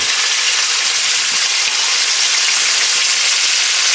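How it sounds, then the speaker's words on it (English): Filet mignon fries in bacon-grease lard, a steady, loud, continuous sizzle with fine crackling spread evenly throughout, no talk over it. "we're cooking it in bacon grease, which is lard"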